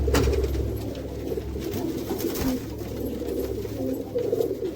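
Kept pigeons coo in low, soft repeated murmurs close by, with a light, constant background hum around them.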